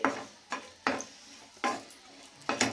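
A spatula stirs green chillies frying in hot oil in a pan, making separate scraping clacks about every half second over a faint sizzle.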